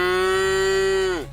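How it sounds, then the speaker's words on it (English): A single long cattle moo, loud and close, a steady sustained bellow that holds for about a second before dropping off at the end. "The cattle's roars shattered the night."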